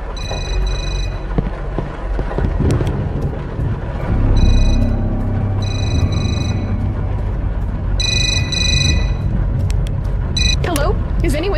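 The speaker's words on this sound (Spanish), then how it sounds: "Teléfono." An old-style telephone bell rings in repeated bursts inside the horror game Suffer the Night, sharp and prominent over a low rumbling ambience, with a voice talking intermittently.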